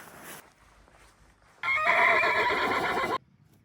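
A horse on the Atsunta mountain pass between Tusheti and Khevsureti gives one loud, close whinny lasting about a second and a half, with quiet outdoor stillness before and after.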